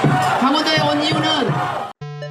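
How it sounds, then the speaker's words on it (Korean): A large outdoor political rally crowd jeers and shouts at a politician taking the stage, a dense continuous roar of booing voices with a few louder individual yells. "오늘도 무대에 오르자마자 야유의 대상이 됐습니다"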